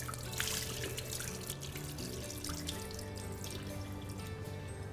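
Water splashes and trickles in a sink while mutton for Hyderabadi haleem is rinsed and rubbed clean, a steady close wash with small drips and sloshes and no voices.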